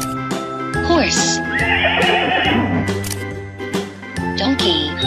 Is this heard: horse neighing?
yes